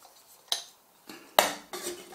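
Metal clatter of a gas canister packed into a small compact camping mug (Mai Tai 650) for an MSR Pocket Rocket 2 stove kit: four short, close knocks and scrapes spaced apart, with no talk.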